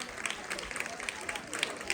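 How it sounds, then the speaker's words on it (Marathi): Audience applauding the Varale family at a Home Minister style village game-show event, a short burst of scattered clapping while a voice talks over it. "वराळ परिवारासाठी एकदा जोरात टाळ्या वाजवा"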